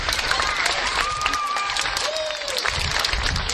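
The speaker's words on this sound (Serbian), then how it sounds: "Jedan aplauz za našu Adilu" A crowd applauds for Adila at a public gathering, with loud, continuous clapping, some cheering and voices mixed in throughout.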